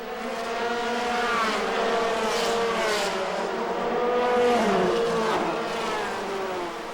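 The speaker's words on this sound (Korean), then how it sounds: "달리는 차들이 내는 굉음은 항공기가 이착륙할 때 내는 소리에 버금간다" Formula-style race cars competing in an international motor race roar past at high speed, a continuous loud, whining engine drone with rising and falling pitch as several cars sweep by, no voices.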